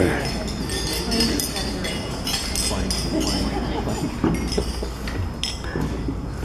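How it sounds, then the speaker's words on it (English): Glasses clink repeatedly during a wedding toast, several light chinks scattered over a steady murmur of guests chatting in a room. "So if you'll raise a glass with me, to Tony and Colette."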